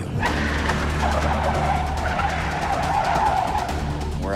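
A car skids through a stunt driving lesson, its tires squealing in a loud, sustained screech over a steady engine roar, close up and without talk.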